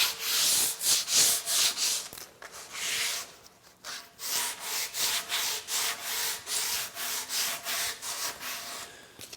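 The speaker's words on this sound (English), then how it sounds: "So just a light hand sanding," A wooden bench gets a light hand sanding in steady back-and-forth strokes, each one a close, gritty rasp in an even rhythm with brief pauses.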